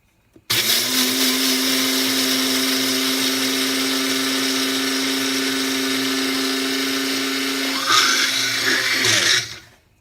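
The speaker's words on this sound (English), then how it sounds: "I'm going to grind them in my little Tri-Best again" A small Tribest blender grinding flax seeds, starting abruptly with a loud, steady high motor whine and rattle of seeds that rises in pitch near the end before cutting off.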